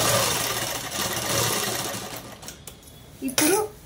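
A sewing machine hums steadily and close while it stitches the neckline of a Punjabi-style dress top, then slows and stops near the end, leaving a few brief handling noises.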